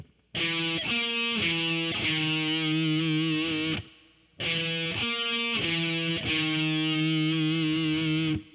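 Slow heavy metal electric guitar riff with thick distortion, two phrases of sustained low chugging notes ringing out with a brief gap between them, loud and unaccompanied.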